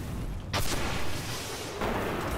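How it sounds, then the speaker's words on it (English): A rocket launcher fires with a sharp, loud blast in the video game Destiny, followed by sustained roaring rumble and a second burst as the rocket explodes, all over dense battle noise. "It's time for my rocket launcher"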